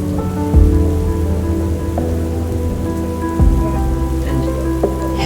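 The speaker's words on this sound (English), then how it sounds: "and lightning flashed and thunder crashed." Heavy rain patters steadily while thunder booms twice, deep rumbling cracks standing out over the constant downpour, with a musical tone underneath.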